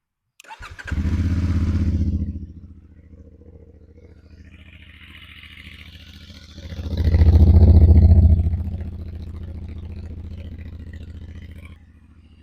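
A CFMOTO 450 motorcycle engine starts with a clatter, idles with a steady low putter, revs once loudly, then settles back to idle.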